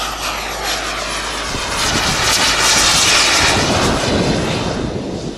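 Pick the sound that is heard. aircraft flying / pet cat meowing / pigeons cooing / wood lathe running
aircraft flying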